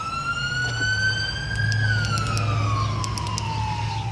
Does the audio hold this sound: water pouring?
no